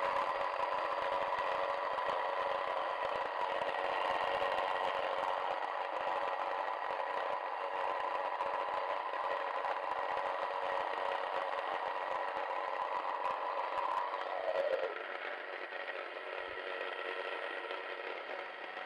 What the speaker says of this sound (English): you want to make sure the machine's running before you put in the grain